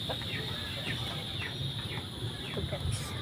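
Chickens cluck in short, scattered calls at a farmyard home, with birds and a steady background hum all around, moderately distant.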